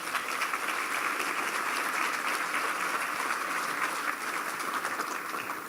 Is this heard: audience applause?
yes